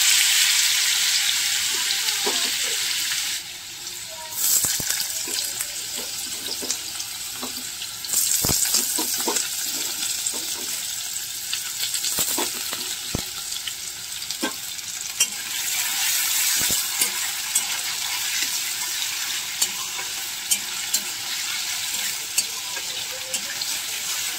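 Potato pieces for chowmein fry in hot oil in a pan, a steady bright sizzle broken by scraping and knocking as a spatula stirs them, close and alone with no talking.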